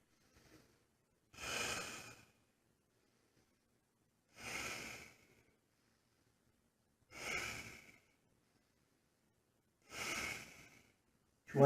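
Slow, deliberate breaths during a back twister stretch, four separate airy exhalations spaced about three seconds apart, close and quiet with silence between them.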